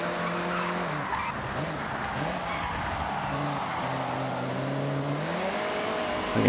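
Race car sliding through a corner in a racing video game, tires squealing over a steady droning engine whose pitch wavers and climbs, continuous and without talk.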